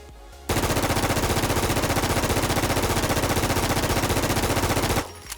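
A QBZ-95 rifle firing on full auto in the video game Infestation, a single sustained burst of rapid, evenly spaced shots lasting about four and a half seconds, loud and close, with no talk.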